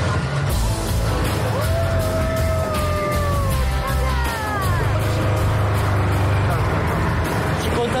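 Inside a moving car, a steady engine and road rumble runs continuously while people talk loudly over it.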